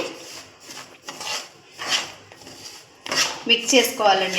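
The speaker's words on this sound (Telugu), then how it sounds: "ఈ రవ్వ వేసుకొని బాగా నీట్గా మిక్స్ చేసుకోవాలండి" Semolina (rava) scraped and stirred around a pan with a utensil for rava laddu, giving repeated rasping, rubbing strokes in bursts, fairly close, with busier clinking toward the end.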